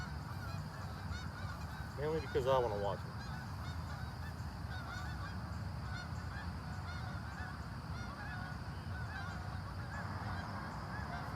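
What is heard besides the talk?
geese honking as they fly over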